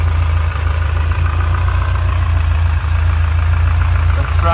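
A 1978 Porsche 924 with dual carburetors and electronic ignition idles close by, a loud, steady low-pitched engine rumble with an even pulsing throb, running alone throughout.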